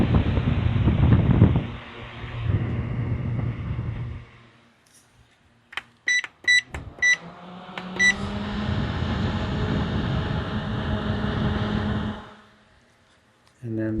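An OGERY camping fan running at its high speed setting gives a steady, fairly loud whooshing rush of air. The rush cuts out briefly, a few sharp clicks sound, and then the even airflow noise resumes before stopping.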